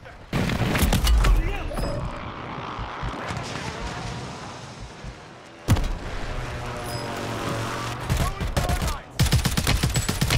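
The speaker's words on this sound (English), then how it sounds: "Where are all them shots coming from?" Gunfire in a video game crackles in dense, overlapping volleys with sharp louder shots cutting through, nearly continuous throughout.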